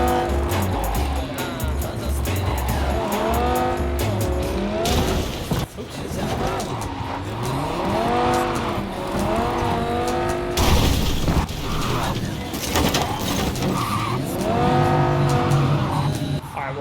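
A sports car driven hard in Cyberpunk 2077, its engine rising and falling in repeated revving sweeps with tire squeals and skids, loud and close, while someone talks over it.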